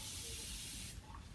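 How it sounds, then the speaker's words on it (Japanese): A handheld spray bottle mists water onto cut dahlia flowers in one soft, continuous hiss lasting about a second before it stops. "それでプシューっとかけて、"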